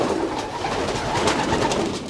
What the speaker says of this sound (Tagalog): Ganda ng kalapati natin na to.